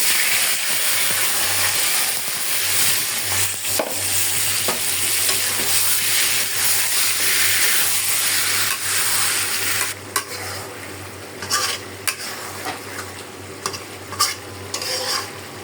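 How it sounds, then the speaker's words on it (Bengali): Marinated chicken meat goes into a pan of lightly browned onions and cinnamon and sizzles loudly, with a steady hiss and intermittent clattering, scraping stirs that grow more pronounced toward the end, and no talking. "আমি এখন দিয়ে দিব মশলা মাখানো মাংসটা"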